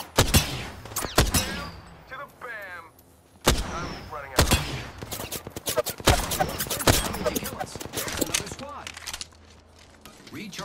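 A battle-royale video game firefight: sharp bursts of rapid automatic gunfire and single loud shots crack in clusters, with voices speaking between and over the shooting.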